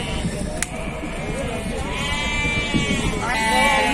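Sheep and lambs bleat at a livestock market in Beylagan, Azerbaijan, with a couple of wavering cries rising near the end over general crowd noise.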